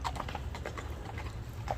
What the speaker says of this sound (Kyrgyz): Уруу эле өтүп кетти мына чабып.